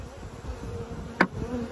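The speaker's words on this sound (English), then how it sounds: "This is a really calm swarm." Calm honeybee swarm at a Langstroth hive, a faint, continuous low buzzing close by with one brief louder pass near the end, no talking.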